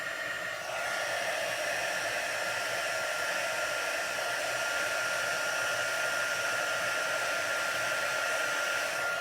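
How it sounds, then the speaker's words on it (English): A heat gun blows hot air in a continuous, steady whooshing drone, close and even in level throughout with no talking, while it heats a paper card being embossed. "now my heat gun is nice and hot"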